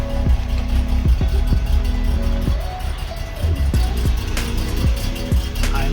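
Freshly started BMW 633 CSi shark nose engine idles on its own with a steady low burble, punctuated by repeated sharp clicks and knocks at irregular intervals, close up and moderately loud with no talking.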